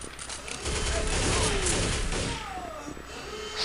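Gunfire from the video game Counter-Strike Condition Zero, a sustained burst of shots in the middle of the clip over a dense game soundscape, with some other game sounds mixed in.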